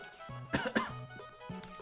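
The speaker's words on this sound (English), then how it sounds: "I have to cough." Two quick coughs sound close but fairly quiet over soft background music with steady tones.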